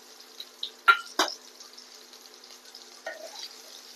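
Chopped onion goes into hot oil with a cumin tempering in a kadai after fish has been fried; two sharp hissing bursts are followed by a soft, steady sizzle and a faint stir of the pan.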